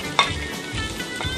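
Small pulled pork scraps and ends crisping in bacon grease alongside caramelized onions, a brief close sizzle with one sharp utensil tap and light stirring.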